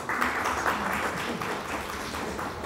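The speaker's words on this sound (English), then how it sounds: "if we could start with a round of applause" An audience at a university lecture course gives a round of welcoming applause, a continuous moderate wash of many hands clapping in a room.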